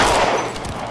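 Gunfire in the L.A. Noire VR police game during a shootout, a loud, dense burst filling the whole second with no talk over it.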